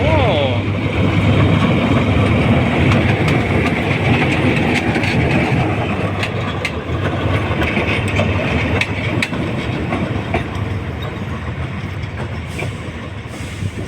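Continuous rumble of a locomotive shunting slowly through the Bangkok station rail yard, with clanking and rattling of cars throughout, loud and close.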